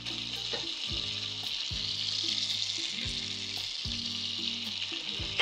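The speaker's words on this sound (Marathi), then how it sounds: "50 ग्रॅम इथे मी बटर घातलेलं आहे कुकरमध्ये" Steady, loud sizzling of butter and oil frying in a pressure cooker, a continuous hiss with occasional low clanks of a utensil, no voices.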